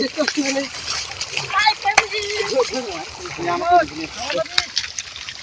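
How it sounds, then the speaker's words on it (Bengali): Boys bathing in a village pond splash and slosh the water in repeated bursts, close by, under constant lively chatter and shouting from several young voices. "আমরা স্নান করবো এখন।"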